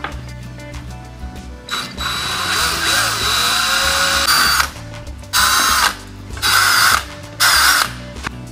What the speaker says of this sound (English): so I need a 5 millimeter drill for these ones